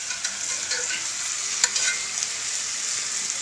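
Steaks on a hot grill hiss and sizzle steadily as they are turned over, a close, even crackling wash with a few brief sharper pops and no talk.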